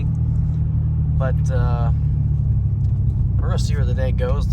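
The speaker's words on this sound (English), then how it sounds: "The old Ford Ranger's been doing pretty good. It's really loud. Needs an exhaust." An old Ford Ranger truck with a loud, failing exhaust gives a steady deep rumble throughout, with someone talking over it.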